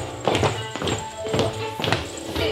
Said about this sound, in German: Ständig klopft jemand.